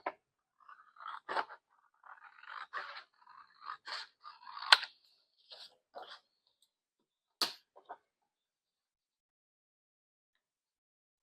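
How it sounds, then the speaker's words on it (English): Scissors cutting through a magazine cover, heard as a loose series of close, crisp snips and papery scrapes over several seconds, with sharper clicks near the end before falling silent. "I think I'll just split it right here and cut down the middle."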